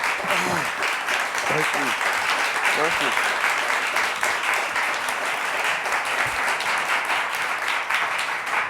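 An audience applauds in a New York hall to welcome a bass-baritone, with steady, dense clapping that continues throughout while someone briefly speaks over it.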